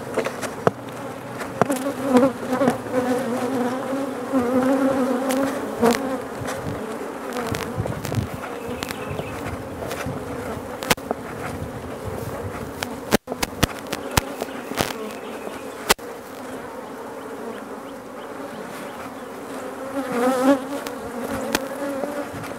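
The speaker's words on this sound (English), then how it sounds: "I've already shook a few bees down here, so they're a little bit shook up." A dense, continuous buzz of honeybees recently shaken from a hive frame into a starter box, agitated and close, with occasional louder passes of individual bees and a few clicks, no speech.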